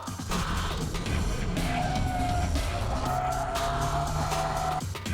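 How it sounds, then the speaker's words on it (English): A car drifting through corners, tires skidding and squealing loudly for several seconds over a constant roaring engine, close and continuous with no talk. "Keiichi Tsuchiya drifts using 6 different drift techniques."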